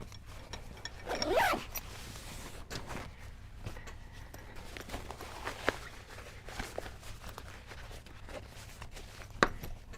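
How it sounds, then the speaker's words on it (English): Zippered pouches being zipped shut on a table, a quick rasping zip near the start followed by soft handling clatter and taps, close and fairly quiet. "I'll zip these up so I keep my table looking a little nicer."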